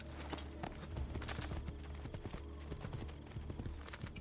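Horse hooves clip-clop in Assassin's Creed 2, a steady rhythmic trot close by over low ambient game noise, with an occasional snort or whinny.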